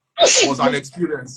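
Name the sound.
sneeze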